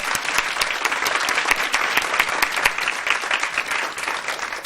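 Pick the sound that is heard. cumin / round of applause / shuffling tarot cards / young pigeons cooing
round of applause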